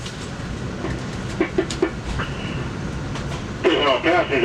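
Passenger train on the Northeast Corridor pulling out of Alexandria toward Baltimore, heard from inside as a steady low rumble with clickety wheel noise, brief chimes or tones, and faint voices under it.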